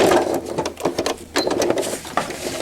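A sewing machine back-stitching velcro onto a cloth diaper, with quick bursts of rapid needle chatter separated by short pauses, close and fairly loud.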